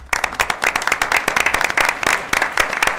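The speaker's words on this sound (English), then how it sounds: "You all deserve a round of applause" Audience at a board of education meeting claps in a lively, irregular burst of applause, close and full, without talk over it.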